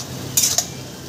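Leafy greens with a splash of water and a little sugar cooking in a pot are stirred, giving two quick metallic scrapes of a spoon over a low background hiss.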